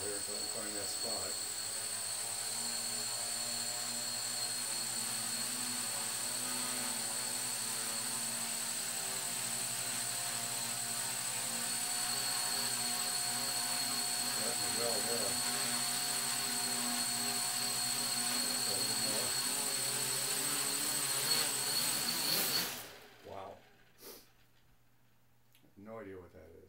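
Multirotor drone motors driven by a KK flight controller board whine steadily and loudly as the throttle is eased up, with a rising high-pitched tone throughout, then cut out abruptly near the end, leaving brief faint clicks.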